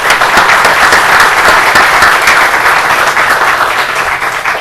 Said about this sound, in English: we owe him another round of applause for his participation